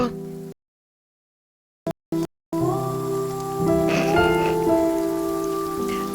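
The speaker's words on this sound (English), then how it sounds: "Here we go, sad rain." Steady rain falling on a surface, played as a sound effect during a tabletop roleplaying game session, a continuous hiss that starts after a short silence and holds at a moderate level beneath a sustained musical tone.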